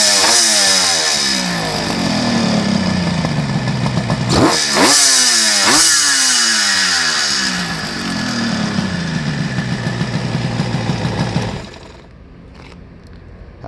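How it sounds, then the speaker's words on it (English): A 1975 Kawasaki 750 H2C three-cylinder two-stroke street motorcycle runs close by, its loud, raspy engine revving up and down in several sharp blips before dropping back to a quieter, popping idle. "Got it running so you can hear it because it sounds so cool. Take a listen to this 2-stroke street bike."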